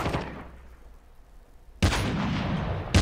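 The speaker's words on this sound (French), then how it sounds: "Là, il a fait une rafale avec son sniper là." Automatic sniper rifle fire in a shooter video game, a sudden loud sustained burst of shots lasting over a second, with a fresh burst starting at the end after a quieter stretch of game ambience.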